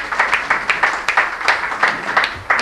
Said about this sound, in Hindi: कृपया तालियों से स्वागत करें